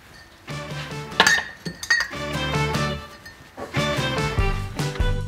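Glasses and dishes clink and knock together as a glass is lifted out, a run of bright ringing chinks and rattles at close range, loud and irregular, with no talk.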